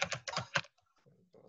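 A username is typed on a computer keyboard, a brief quick run of close key clicks followed by faint softer taps, with a voice nearby.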